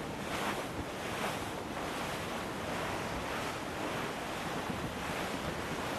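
Steady ocean surf and gusting wind from the Assassin's Creed 4 Black Flag game, a continuous roaring wash of waves with wind buffeting the mic, full and unbroken throughout with no talk.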